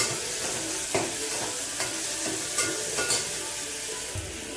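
Shallots and green chilies sauté in oil with mustard seeds, a continuous bright sizzle broken by occasional spoon taps and scrapes as the pan is stirred, close and fairly quiet.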